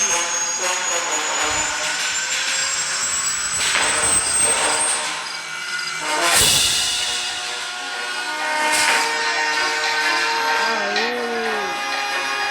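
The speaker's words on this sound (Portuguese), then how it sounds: "Eu vou escapar de helicóptero" Helicopter escape in the mobile horror game Granny Chapter Two: a steady, loud engine and rotor drone runs throughout, with a rising whine and a few bursts layered over game noise.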